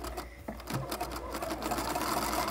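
A sewing machine with an open-toed foot runs continuously while back stitching a pillowcase, a steady close mechanical whir with a fast rattling stitch rhythm.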